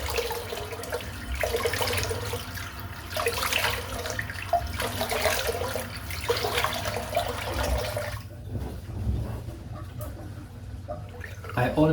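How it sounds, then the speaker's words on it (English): Cold water running from a tap into a sink during a head shave: a steady rush of water flows at close range, with a voice speaking over parts of it. "Bit of cold water."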